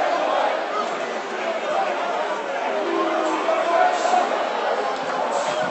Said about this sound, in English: Let me show you the crowd.